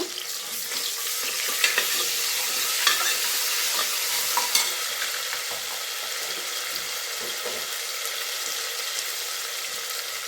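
Ginger garlic paste and tomato frying in hot oil in a pan, a steady close sizzle that holds level throughout with occasional scraping stirs, and no talking.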